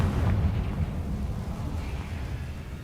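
A Confringo spell explosion in Hogwarts Legacy lands as a deep booming burst at the start, then rumbles away into a low, fading roar with no voices.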